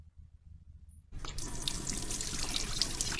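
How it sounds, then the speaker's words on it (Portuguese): A household water tap is turned on after a moment of near silence; a steady, fairly loud rush of running water follows and continues to the end. "E eu vou provar isso abrindo essa torneira."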